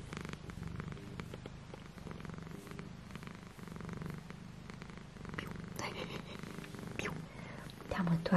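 A house cat purrs in a continuous, close, soft rumbling rhythm throughout, with faint voices and household movement in the background.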